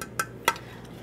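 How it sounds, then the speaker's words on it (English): The glass lid of an E-Ware 5K118 food steamer is handled, producing two short, bright clinks a fraction of a second apart, close and moderately loud in an otherwise quiet room. "You get a glass lid,"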